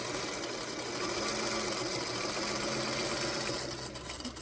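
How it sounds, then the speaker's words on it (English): Sewing machine oversewing a seam on a wool appliqué star quilt block, a loud steady close whirring motor hum that runs continuously and eases off near the end. "I'm just going to oversew a little bit there to set that"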